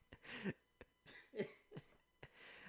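A person coughs several times in a row, close and fairly soft, with a raspy throat-clearing quality and short breaths between the bursts.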